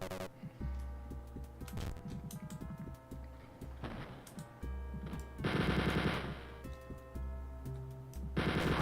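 Rapid bursts of automatic gunfire ring out in the 1992 retro shooter Wolfenstein 3D, loud and close, with repeated rattling volleys broken by short gaps and heavier blasts.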